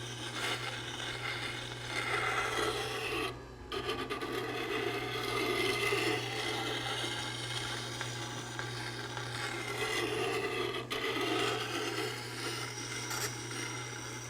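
A bowl gouge held against the wheel of a JET JSSG-10 sharpening grinder, taking metal off back to the bevel; steady rasping grind runs throughout with brief pauses, close and moderately loud.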